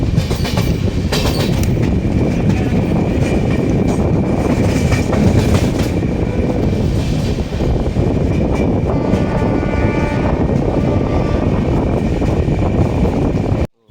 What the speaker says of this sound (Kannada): ಸೊ ಫೈನಲಿ ಕಡೂರು ಜಂಕ್ಷನಿಂದ ಈಗ ನಮ್ಮ ಟ್ರೈನ್ ಡಿಪಾರ್ಟ್ ಆಗೈತೆ